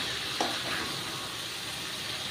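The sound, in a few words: potatoes being fried with spices for chicken biryani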